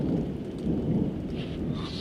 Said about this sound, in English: A bolt of lightning struck the exact spot the child had pointed to.